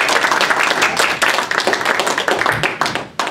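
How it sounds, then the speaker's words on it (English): Lively audience applause and clapping at a thesis defense, a close, dense burst of many hands that tapers off at the end. "Thunderous applause."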